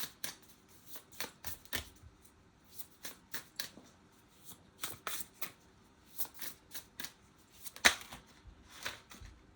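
Astrology cards are shuffled for a reading: quiet, close riffling in a quick rhythmic series of short bursts, with a sharper snap partway through.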